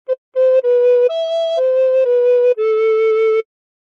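A phrase of Bella Ciao on a recorder: a short pickup note followed by a run of sustained notes, one stepping higher in the middle, played cleanly and alone with no voices.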